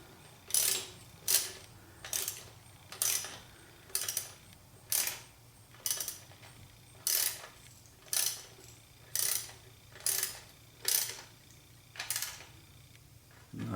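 Ratcheting clicks ring out in a steady series of about a dozen short bursts, roughly one per second, as a fitting is snugged on a 1976 Corvette restomod engine during radiator and block antifreeze filling; close and clear.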